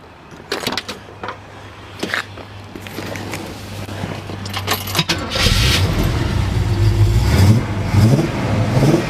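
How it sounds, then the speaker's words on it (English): A 1968 Oldsmobile Cutlass S convertible V8 cranks and fires after some clicks and key jangling, then settles into a loud, rumbling idle close by, with a few throttle blips toward the end. "Nice sound little V8."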